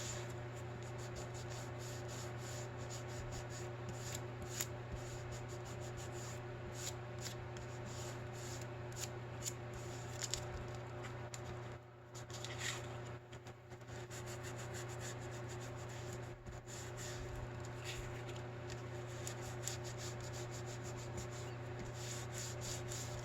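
Used dryer sheet rubbing excess glue off a lace-pocket craft piece: a steady, close, continuous scuffing rub with a low hum beneath, pausing briefly twice.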